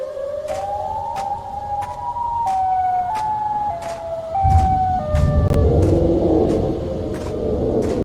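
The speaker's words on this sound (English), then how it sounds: "you'll know Siren Head is nearby because of all the sounds he makes" The Siren Head monster in a horror video game wails in a siren-like tone that rises and falls in steps over a low rumble, with sharp clicking hits throughout and a heavier crash midway.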